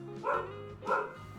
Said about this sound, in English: Alright, I'm gonna have to go let my dog in.